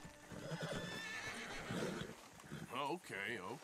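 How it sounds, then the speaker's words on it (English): In a Red Dead Redemption 2 game scene, a horse gives two loud, wavering neighs near the end, following a stretch of other game sounds and speech. "my horse is running away"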